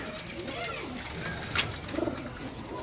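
Pigeons being shown for sale coo softly, with one clear, brief coo rolling out near the end over low background murmur and a voice.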